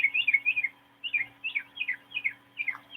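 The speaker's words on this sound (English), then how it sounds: "thank you, birds, for that great crescendo" Birds chirping in a series of quick, clear, rising-and-falling tweets, about eight close, loud calls in a regular rhythm over a faint steady hum, with no talking.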